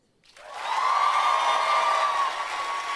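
Convention audience at Comic-Con applauding after a Game of Thrones question, a burst of clapping and crowd noise that swells in quickly and holds steady, loud and sustained.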